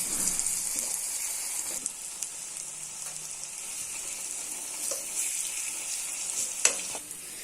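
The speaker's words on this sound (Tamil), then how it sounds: "இந்த பருப்பை நல்லா அப்படி வதக்கிக்குவோம்." Dal lentils sauté in hot oil in a pan for cluster beans usili, a soft steady sizzle with occasional stirring scrapes and taps, fairly faint and without talk.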